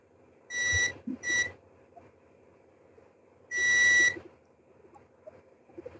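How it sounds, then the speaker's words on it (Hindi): A multimeter in buzzer continuity mode gives sharp electronic beeps while probing an LG LED TV logic board for shorts: two short beeps, then one longer beep after a pause, each close and clear over a quiet hum. "तो पहले मल्टीमीटर को हम बजर पे करेंगे।"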